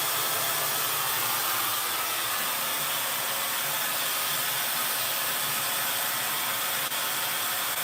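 A hair dryer blows hot air on hair, with a steady, loud, close whooshing hum that runs unbroken for the whole stretch.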